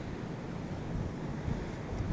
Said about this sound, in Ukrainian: сильний вітер, ну і нормальні хвилі.